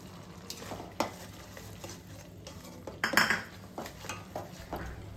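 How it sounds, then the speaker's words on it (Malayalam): Powdered flattened rice being stirred in a pan while making a healthy nut laddoo, with scraping spoon strokes and light metallic clinks of the utensil against the pan, close and moderately loud, one sharper clatter midway. "അവല് പൊടിച്ചത് നമുക്ക് ഇട്ട് ഇളക്കിയെടുക്കാം."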